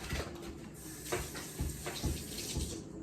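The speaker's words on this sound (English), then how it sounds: "Now I'm going to rinse my hands off." Running kitchen tap water splashing as hands are rinsed under it, a steady broadband hiss with a few louder splashes, close and alone with no talking.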